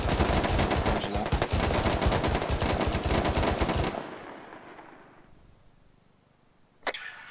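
Rapid automatic rifle fire in Arma 3 rattles out loud and continuous for about four seconds during a building-clearing operation, then trails off into a fading echo. A brief sharp sound comes near the end.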